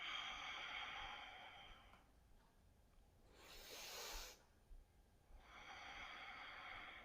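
A slow, breathy exhale from one person during a yoga breathing exercise in pigeon pose, a soft airy rush lasting about a second, set between stretches of quiet room tone with no talking.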